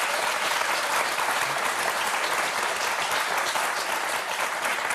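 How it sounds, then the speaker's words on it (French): Studio audience at a French television show breaks into dense, steady applause that fills the whole stretch at an even, loud level with no speech over it. "on peut l'applaudir, c'est un beau score"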